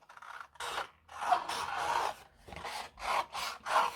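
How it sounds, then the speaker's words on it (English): Scissors cut through craft card stock for a stamped unicorn card, with several close, rasping snips and slicing strokes separated by short pauses. "So I'm just going to cut the bulk of the card off."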